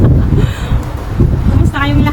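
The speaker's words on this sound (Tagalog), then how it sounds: "Malakas ng hangin guys, natutumba ang cellphone ko." Strong outdoor wind buffeting a phone microphone, a loud continuous low rumble with gusty swells, while a person talks over it.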